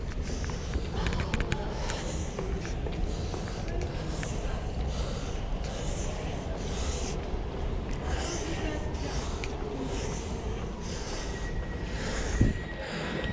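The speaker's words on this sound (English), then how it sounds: "So that's the first train westbound." Elizabeth line train at Tottenham Court Road station, a steady rumbling rail roar filling the platform with faint squeals and clatter, a brief thump near the end, crowd murmur and passengers moving around it.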